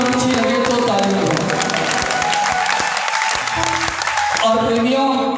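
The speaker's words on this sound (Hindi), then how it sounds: "बात सच्ची और अच्छी लगे तो ताली बजाओ" An audience at a religious katha bursts into sustained clapping, dense applause throughout with a voice speaking over it and music coming back in near the end.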